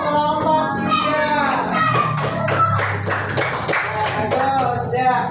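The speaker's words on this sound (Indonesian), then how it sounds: "tepuk tangan untuk kelompok 3" A fourth-grade class of children claps in a loose, scattered burst for a group, with voices chattering and calling out over the applause.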